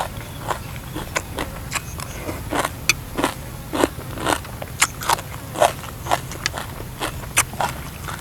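Crunchy fresh raw vegetables are bitten and chewed close to the microphone as a side to a spicy Thai lotus stem and fresh shrimp salad. The crisp crunches and crackles come in a steady rhythm with no talking.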